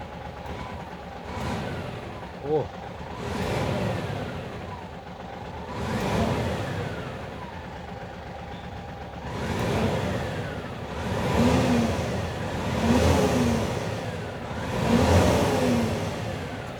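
A twelve-wheel dump truck's engine revs in repeated swells, rising and falling about every three seconds, heard from inside the cab with a steady mid-pitched whir between pulls and no talking.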